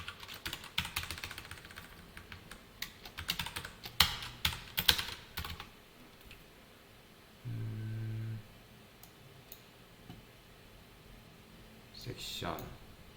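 Code being typed on a computer keyboard during a JavaScript and jQuery lesson: bursts of quick, close key clicks in uneven rhythm, a short tonal hum midway, then quiet with a final soft noise.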